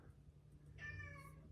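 A pet cat, an indoor-outdoor kitty, lets out a single short meow close by, faint and clear against a quiet room hum.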